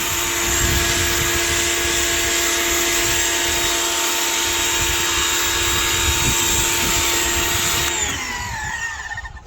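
A pressure washer sprays down a 2006 Chevrolet Silverado truck, a loud continuous droning motor whine with hissing spray held steady for about eight seconds before dropping off near the end.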